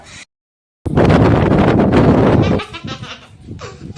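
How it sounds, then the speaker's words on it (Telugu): Strong gusts buffet the microphone in a loud, rumbling roar after a brief dropout, then ease into softer fluttering wind noise. "చూడండి గాలి ఎట్లా కొడుతుందో"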